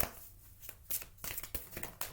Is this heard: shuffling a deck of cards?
yes